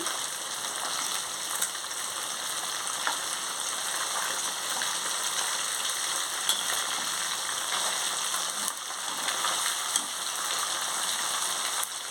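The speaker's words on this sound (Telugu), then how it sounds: "కొంచెం వేగిన తర్వాత చేప ముక్కల్ని తిప్పుకోవాలి" Pieces of chanduva fish frying in a pan produce a continuous, even crackling sizzle with small pops, steady and fairly close throughout with no voices.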